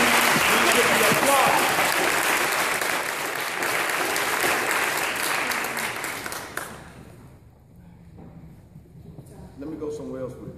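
Crowd applause at a Black Lives memorial rally, dense and sustained for several seconds before cutting off into near quiet with faint murmuring.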